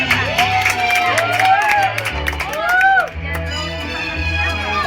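Guests at a child's seventh birthday party clap together in a loose, uneven burst, mixed with whoops and excited voices close by.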